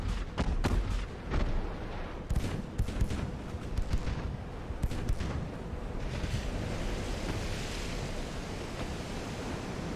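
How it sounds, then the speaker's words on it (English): Torpedoes fired from a light cruiser in Ultimate Admiral: Dreadnoughts, heard as a cluster of sharp launch thumps and booms. The bursts settle into a continuous, wash-like sea and battle rumble. "We just fired some torpedoes"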